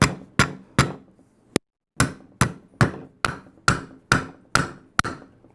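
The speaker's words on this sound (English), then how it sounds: "I like to take a punch and chase it through." A hammer taps a punch driving a pin out of an SAS 12 shotgun about a dozen times in a steady rhythm. Each strike is sharp, ringing and close, with brief pauses between blows.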